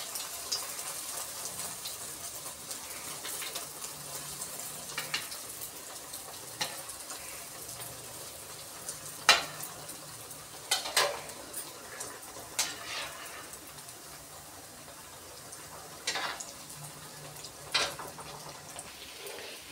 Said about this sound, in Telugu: ఈ బ్రెడ్ పీసెస్ చేసుకున్నవి ఒక్కొక్కటి వేసుకున్నలాగా వాటిని రోస్ట్గా గోల్డెన్ బ్రౌన్ కలర్ వచ్చేలా వేయించి పక్కా తీసుకోవాలి